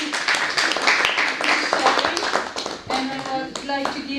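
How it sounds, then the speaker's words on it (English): Small audience clapping for an artist at a conversation event in Sweden, a brief burst of scattered hand claps mixed with overlapping voices, followed by talk continuing as the clapping fades. "I think we will give him an applause"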